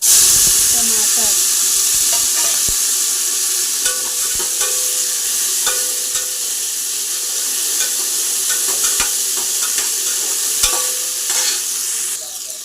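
A pan of tomatoes sizzles and fries steadily, with scraping stirs and clinks from a spoon throughout. The sound is close and continuous.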